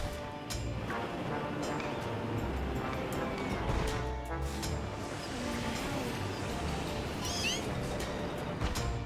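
A Meowth crying out in the video game Pokémon Violet, a short cat-like meow set against busy game audio with no talk over it.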